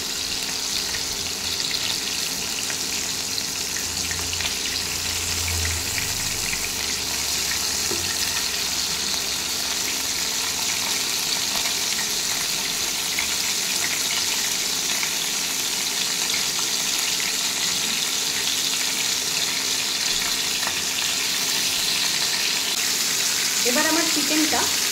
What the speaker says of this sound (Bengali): তেল গরম হয়ে গেছে, এবার আমি দিয়ে নেব মেখে রাখা চিকেন।